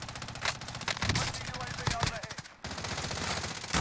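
Rapid bursts of automatic gunfire from a Call of Duty zombies video game, close and loud, with short gaps between volleys and players' voices faintly underneath.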